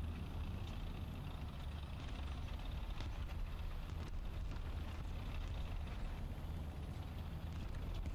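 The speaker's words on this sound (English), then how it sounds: "Oh, that's our friendly engine." Friendly tank engine in a tank video game, a low steady diesel drone with rumble and idling texture, fairly faint and continuous with no talk.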